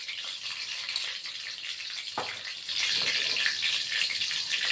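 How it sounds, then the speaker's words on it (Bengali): Black cumin seeds tempered in hot oil for a bottle gourd dish hiss softly at first, then swell into a louder, steady, close frying sizzle partway through, with no talking. "এই যে বন্ধুরা কালো জিরে ফোড়ন দিচ্ছি।"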